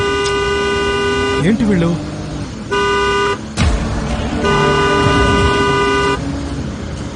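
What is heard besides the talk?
car horn honking in traffic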